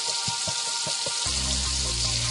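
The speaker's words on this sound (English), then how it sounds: "we're going to fry up the second batch, which is the tentacles and the rings all in the same pan" Calamari tentacles and rings fry together in a pan, a dense, steady sizzle heard up close, with a few soft low thumps at the start and a low hum joining partway through.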